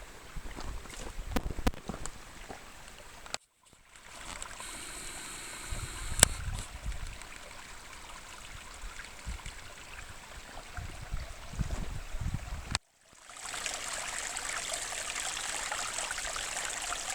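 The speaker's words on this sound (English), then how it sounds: "Another good sign, a flowing brook." A flowing brook on a hiking trail near Canyon Lake, a steady soft rush and trickle of water heard close by with faint rustling, broken by two brief silent gaps.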